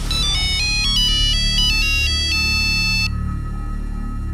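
A bright electronic phone ringtone plays a quick melodic pattern, loud and close, over a low hum, then cuts off.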